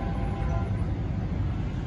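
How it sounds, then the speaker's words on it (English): A train nears a level crossing, heard as a steady, loud low-pitched rumble of rolling rail cars that holds constant for under two seconds, with no voices over it. "There's a train coming, oh my gosh."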